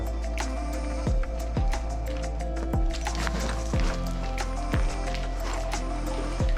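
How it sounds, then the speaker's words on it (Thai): Stream water flows steadily through a limestone cave in a Thai national park, a continuous wash of running water with a few soft repeated knocks and no talking. "น้ำในลำธารอยู่เบื้องหน้า"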